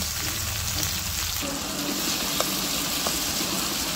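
Tomatoes frying in a pan for pakbet give a steady, close sizzle with light crackles and a faint stir or two, and no one talks over it.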